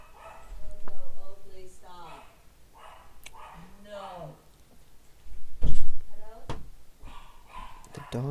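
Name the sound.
dogs barking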